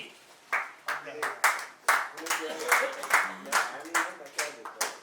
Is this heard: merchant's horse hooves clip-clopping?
no